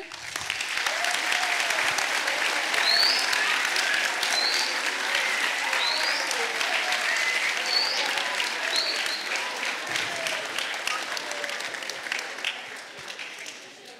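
Studio audience applause welcoming a mathematician guest on a science television show: a long, full wash of clapping from a sizable crowd with a few whistles and cheers, tapering off toward the end.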